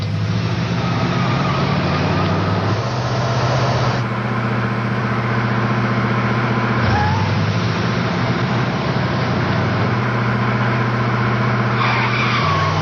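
A car engine roars loud and close, holding a strained drone and surging through gear changes as it accelerates hard, no voices.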